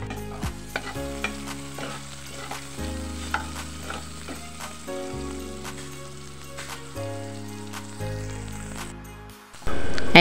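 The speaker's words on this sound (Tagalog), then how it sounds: "Igisa natin yung bawang tsaka yung sibuyas" Garlic and onion sautéing in oil for Kapampangan kilayin, with steady stirring clicks and a soft sizzle running under prominent background music throughout.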